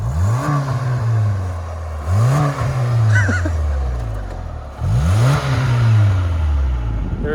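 A 4x4 engine revs hard in a tug of war against a front-wheel-drive car, three loud rising surges each falling away, close and clear with a brief clatter between.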